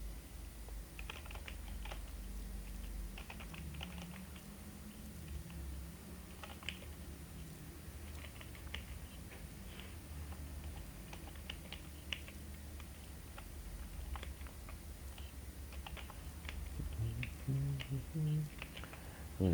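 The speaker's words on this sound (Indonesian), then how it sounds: "Kemudian kita ketikkan datanya." Soft typing on a computer keyboard while data is entered, a quiet, irregular patter of key clicks under faint room hiss.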